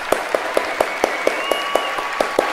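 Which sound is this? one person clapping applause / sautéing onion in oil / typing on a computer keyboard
one person clapping applause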